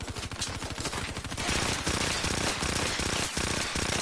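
Rapid automatic gunfire from a Black Ops 3 video game rattles in dense, loud bursts, fast rhythmic shots at first and then a continuous heavy barrage, with no talk.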